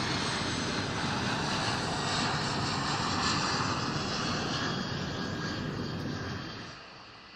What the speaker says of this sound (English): All passengers and cabin crew should now be seated with their seatbelts securely fastened